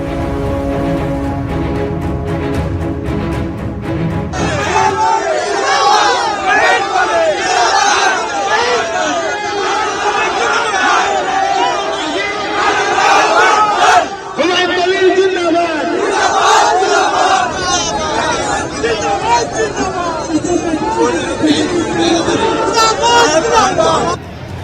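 Large crowd gathered at Beldanga in Murshidabad, West Bengal, for a Babri Masjid foundation laying, loud massed chanting and shouting voices overlapping continuously, dense and close, after a brief opening of other sound.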